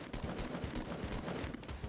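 Rapid automatic gunfire in the video game Fortnite, a dense burst of quick repeated shots, moderately quiet and continuous for under two seconds.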